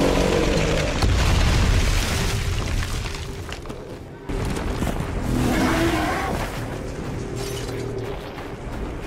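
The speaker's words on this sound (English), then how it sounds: "A few gunshots should get him dazed." Heavy gunfire in the Darksiders 2 video game during a horseback battle against a large foe: loud booming blasts and rumbling impacts fill the whole stretch, with a short dip partway through.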